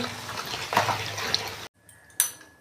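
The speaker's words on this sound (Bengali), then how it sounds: "কচু শাক তো দেখুন বন্ধুরা, আমি ভালো করে কিন্তু ধুয়ে নিচ্ছি।" Taro leaves (kochu shak) are washed under running water, a close splashing rush with small knocks, cut off by a sudden pause and then a short sharp splash.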